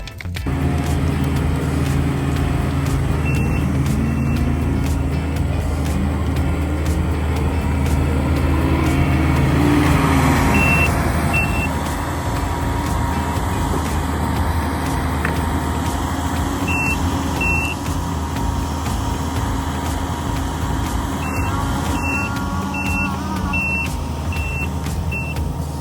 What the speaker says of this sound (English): So I just happen to have a skid steer, so that's why I'm using it.